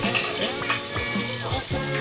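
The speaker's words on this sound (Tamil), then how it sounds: "சின்ன வெங்காயம் போட்டு நல்லா ஃப்ரை பண்ணிட்டு நல்லா வணக்கிட்டுருக்கோம்" Small shallots frying in a pan for sambar rice give a steady, dense sizzle, close and loud, with occasional stirring scrapes running through it.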